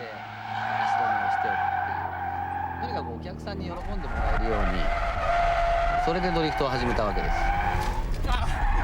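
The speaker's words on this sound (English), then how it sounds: "I started drifting the car through the corners" A car drifts through corners, its tyres squealing in repeated skids over a revving engine. Someone talks over the tyre and engine noise throughout.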